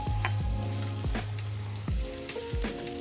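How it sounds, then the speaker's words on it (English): Onions frying in olive oil with garlic, a steady close sizzle broken by a few clinking stirs and scrapes of the pan. "So now we just go ahead and add our onions."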